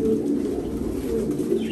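Large racing pigeons kept for pairing give a steady, low rolling coo that carries on without pause, near and moderately loud, with no voices present.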